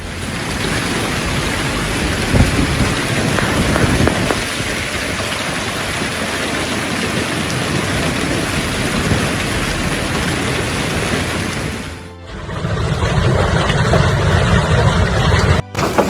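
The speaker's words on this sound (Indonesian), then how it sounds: "Hujan es di Texas." A hailstorm with thunder in Texas: a dense, steady roar of falling hail and rain that fills the scene, briefly dipping near the end before resuming just as loud, with no voices.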